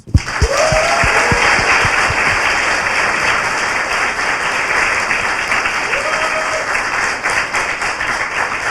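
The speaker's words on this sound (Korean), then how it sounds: "미친 기감독이 있었기 때문에 박수부터." A live studio audience claps in sustained, dense applause across the whole stretch, loud and even, with a couple of brief voice-like tones surfacing through the clapping.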